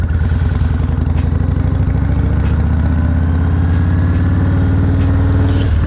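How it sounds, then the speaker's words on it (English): A motorcycle engine runs steadily up close while the rider slips the clutch in its friction zone on a busy street, giving a loud, even low rumble with faint clicks and no speech. "I'm feathering the clutch, the friction zone."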